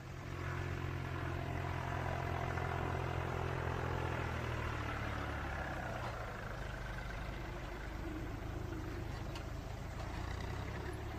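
Farm tractor engine running steadily in an open field, a low continuous rumble with a droning hum, fairly loud and unbroken, with no talk over it.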